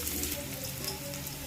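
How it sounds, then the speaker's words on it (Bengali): Chopped onions lightly frying in oil for a potato and okra dish, heard as a dense, even sizzle and crackle close by, steady for its whole short length. "পেঁয়াজ কুচিটা হালকা ভেজে নেওয়ার পর"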